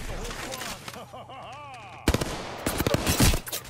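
Rapid automatic gunfire from the video game Apex Legends rattles in loud bursts after a stretch of game sound effects, with a player's voice faintly mixed in.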